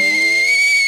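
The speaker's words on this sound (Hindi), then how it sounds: "कुकर बुला रहा है, सीटी बजा रहा है।" A single loud, steady pressure-cooker whistle, a sharp sustained hiss-tone held without a break for about a second.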